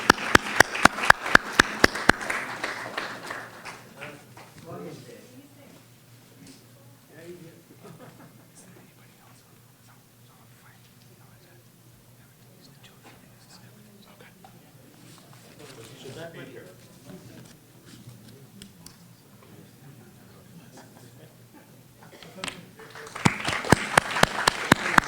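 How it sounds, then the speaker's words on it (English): Brief bursts of audience applause at an anniversary celebration with a book release, clapping at the start, then a long stretch of quiet hall and low talk, before clapping swells again at the end. "We can give them a round of applause anyway."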